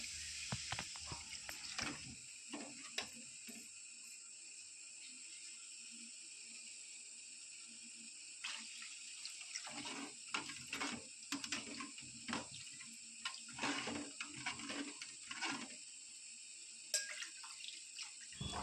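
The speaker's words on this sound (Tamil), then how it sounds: "இது கூடவே வந்து இப்போ தேவையான அளவுக்கு நான் தண்ணி சேர்த்துக்கிறேன்." Water being poured into a cooking pot of chilli-spiced curry in a home kitchen, heard as intermittent splashing and trickling bursts, close and fairly soft, with gaps of quiet between pours.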